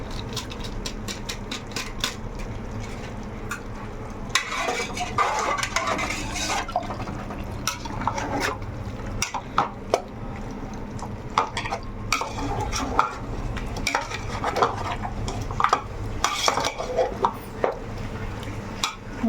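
A spoon stirs chicken biryani, rice cooking with meat, in a pot, with repeated scraping and clinking against the metal over a low sizzle, loud and close.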